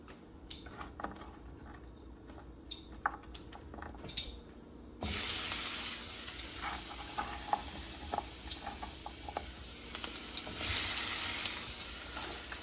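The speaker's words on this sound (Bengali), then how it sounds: "একটু আলু কাটলাম, আর এবারে এটাতে 5 ফোড়ন দিয়ে এই সবজিটা দিয়ে দেবো এখানে।" Cubed pumpkin and potato hit hot oil tempered with five-spice, bursting into a loud, steady sizzle midway after quiet kitchen clinks, with stirring and a brief rise in frying noise near the end.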